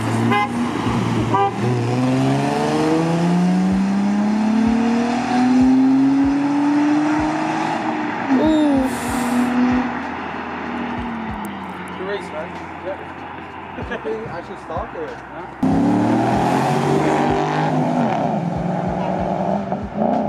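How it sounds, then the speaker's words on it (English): Audi and Mercedes cars drag racing on a street, engines revving and rising in pitch as they accelerate, with horn toots and people talking over the close, loud engine noise. "We're racing this Audi and Mercedes as well."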